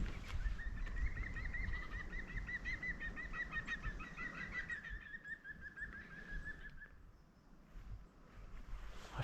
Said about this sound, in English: I think that's a woodpecker.